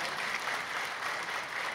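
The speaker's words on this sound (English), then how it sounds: "Can we have another big round of applause?" A morning startup event audience gives a round of applause, steady crowd clapping heard at some distance and fairly soft, with no voices over it.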